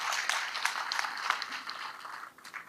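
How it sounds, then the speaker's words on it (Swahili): An audience at a public gathering applauds for the cabinet secretary, a steady burst of many hands clapping at moderate distance that fades toward the end. "Makofi mazuri kwa Bwana CS."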